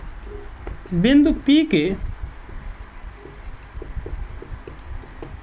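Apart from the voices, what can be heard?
writing on a board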